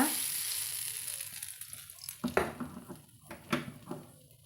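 Curry leaves crackle and splutter in hot oil for a coconut chutney tempering, a steady close sizzle with a few sharper pops and stirring clatters toward the end.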